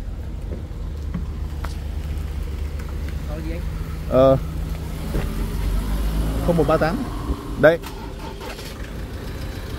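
Imported Thai-built 2.2 diesel car engine idling steadily with a low rumble, a couple of brief revs rising above it, while someone speaks intermittently nearby.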